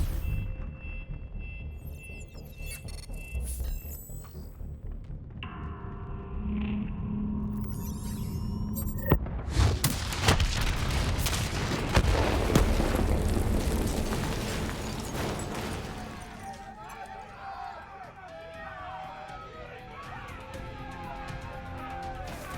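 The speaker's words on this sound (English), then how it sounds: "Detonate now!" A detonation in the video game Call of Duty Black Ops 3 sets off a broad, roaring blast about nine seconds in, rumbling on for several seconds over game music and effects before settling into crackling debris and fire noise.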